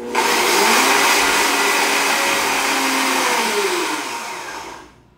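A food processor pulses to finely chop plant-based ingredients, giving a loud, close, steady motor whir for about five seconds before it winds down, with no talking.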